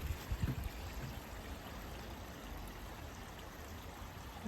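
A forest stream flows in a soft, continuous babble and trickle, faint and steady with a few low bumps early on, no voices over it.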